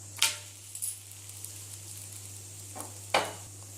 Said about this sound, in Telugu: ఇప్పుడు దీని మీద మనం చేసుకున్న రోటీ వేసుకుందాం